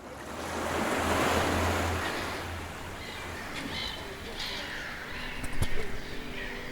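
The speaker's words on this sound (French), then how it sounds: "vous vous êtes retrouvés au bord de la mer à écouter le doux ressac des vagues" Gentle ocean surf at the seashore, a soft wave swelling and washing in, then a lighter rush of water with wind buffeting the microphone and faint bird calls.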